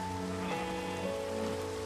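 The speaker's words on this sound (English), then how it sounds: "Bro, it's raining." Steady rain patters down in Minecraft, a soft continuous hiss of falling drops under faint in-game ambience, with no talking.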